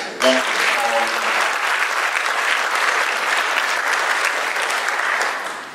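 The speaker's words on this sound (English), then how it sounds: "I really want us to give them a round of applause." A crowd at a mayor's state of the city address breaks into sustained applause, loud steady clapping with a brief voice at the start, tapering near the end.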